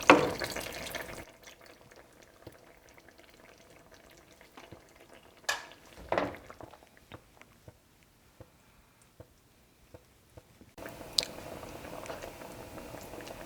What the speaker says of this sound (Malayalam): ഒരു 1/2 കപ്പ് വെള്ളത്തോളം തേങ്ങാപ്പാലിരുന്ന പാത്രം കഴുകി അതും കൂടെ ഞാൻ ഒഴിക്കുകയാണ്